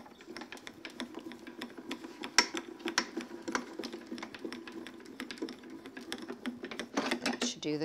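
A die-cutting machine feeds a card through to cut its edge, with a fast run of small mechanical clicks and ticks that grows busier toward the end. The sound stays close and moderately quiet, with some talk nearby.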